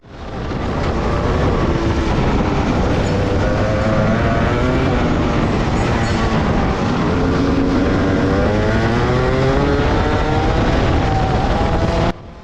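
A Rotax Max Senior kart engine drives on a cold, slippery winter track, its high, buzzing two-stroke note held loud and steady throughout with shifting pitch as it accelerates and lifts, close to the listener and with no speech.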